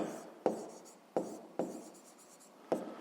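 Pen writing out a maths solution for a fifth-grade exercise on cabbage harvest: four distinct scratchy strokes, each with a sharp onset fading away, close and fairly quiet, with no voices.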